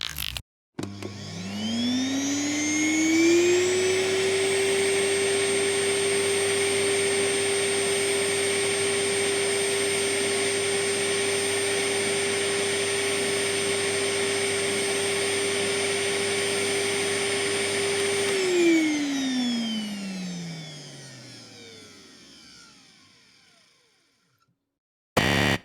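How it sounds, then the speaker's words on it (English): A Henry Hoover vacuum cleaner motor whines up to a steady high drone, runs loud and close for about seventeen seconds, then spins down and fades to silence. "Henry Hoover, the lovable suction machine"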